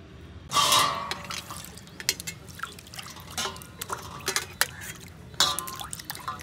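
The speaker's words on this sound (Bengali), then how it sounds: "আরেকবার আমি পরিষ্কার জলে ধুয়ে নিচ্ছি।" Shrimp are rinsed in clean water in a kitchen, with close splashes and scattered drips coming in uneven bursts.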